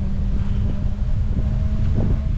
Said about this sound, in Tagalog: malamig po ang simoy ng hangin ay